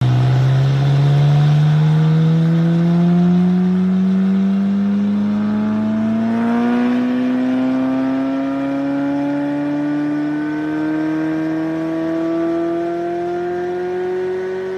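A 2023 C8 Corvette Z06 engine runs on a dyno inside an anechoic chamber, revving loudly and steadily with its pitch climbing smoothly through the whole pull, close and dry with no talk over it.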